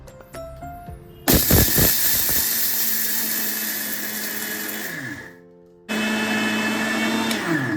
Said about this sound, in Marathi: इथे अवेलेबल नाही म्हणून मी मिक्सरमध्ये बारीक करत आहे